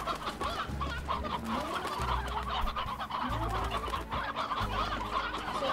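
Hens cluck repeatedly in Slime Rancher in short, busy bursts over a pulsing low background rhythm, with scattered chicken calls throughout.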